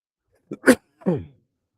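A person sneezes once, close by. A quick intake of breath leads into a sharp burst, followed by a short trailing exhale, in an otherwise quiet room.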